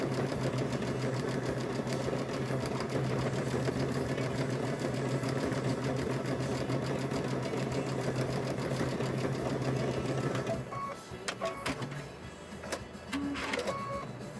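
A 1960s sewing machine stitching elastic into a fabric bowl cover runs as a fast, steady mechanical whir with a rhythmic needle clatter for about ten seconds, then stops, leaving faint handling clicks and rustles.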